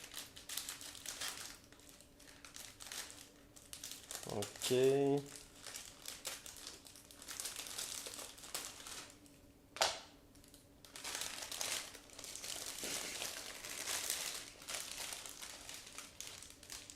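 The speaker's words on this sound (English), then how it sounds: "bag is sealed, so I will need scissors in order to open it" Plastic crinkles and rustles near the microphone as scissors cut open the sealed bag of a Miniart 1/35 Sharotank model kit, with a brief sharp snip partway through and a soft spoken word.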